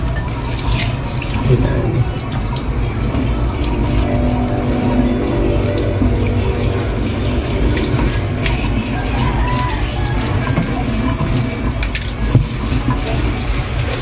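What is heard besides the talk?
tap water running while washing pechay leaves one by one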